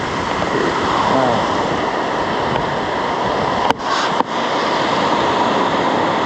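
Strong ocean waves rolling onto a beach make a loud, continuous roar mixed with wind buffeting the microphone, broken by a couple of brief handling knocks.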